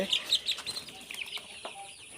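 Twelve-day-old broiler chicks peep in a close, bright flurry of high calls, several overlapping chirps early on that thin to scattered peeps, with a voice faint in the background.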